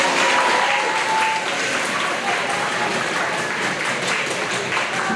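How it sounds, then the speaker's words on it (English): Loud applause from a crowd at a seventh grade school awards ceremony, a dense and continuous roar of clapping with faint voices mixed in. "let's give those guys another round of applause"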